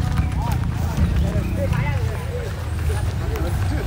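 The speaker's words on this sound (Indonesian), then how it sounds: "Oh lah sapi jalan-jalan ya" Cow hooves clopping on pavement as the animal walks into a market area, a steady run of hoof strikes under continuous crowd chatter and nearby voices.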